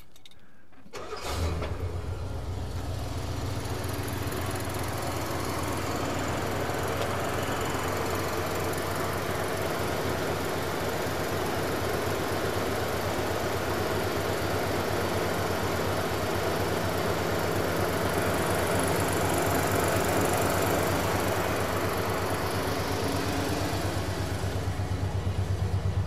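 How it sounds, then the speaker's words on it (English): A 1972 Lincoln Continental in need of a new muffler starts with a quick crank, then runs at a loud, steady, throaty idle close by for about twenty-five seconds, with no voices over it. "we'll fire up the Ford. This car needs a new muffler, so don't hold it against it."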